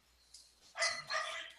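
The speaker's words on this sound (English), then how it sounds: "I hope you don't hear those dogs barking." Dogs bark in two faint, distant bursts behind a quiet indoor background during an online meeting, with no talk over the sound.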